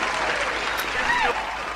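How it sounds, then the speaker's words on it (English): Studio audience applause greets Mel Gibson on a comedy talk show, a dense steady patter of clapping with a brief whistle rising above it, lasting throughout. "a big round of applause for Mr. Gibson"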